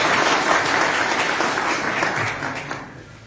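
Audience applause fills an oath-taking ceremony of the Sangaria municipal board: dense, loud clapping from many hands that holds steady, then thins and fades toward the end.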